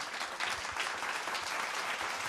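Audience applause at a children's semifinal speech competition, a steady dense clapping that fills the whole short stretch at moderate loudness with no voices over it.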